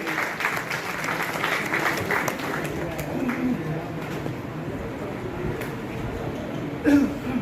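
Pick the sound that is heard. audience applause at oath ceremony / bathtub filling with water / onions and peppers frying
audience applause at oath ceremony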